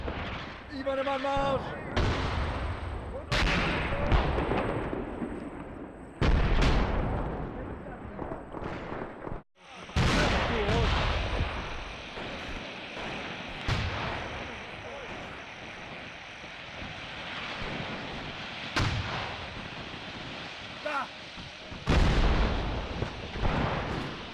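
Mortar rounds exploding in the war game Graviteam Mius, a run of heavy booming blasts at irregular intervals, some close and loud, others more distant, over a rumbling battlefield background with an aircraft-like drone.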